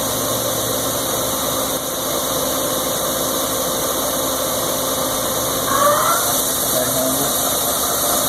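A large Ikegai TUR 30L CNC lathe with live milling, 35 hp and Fanuc 18T control, with its spindle turning at 600 RPM, giving a steady droning machine hum with a few faint high tones, running continuously throughout.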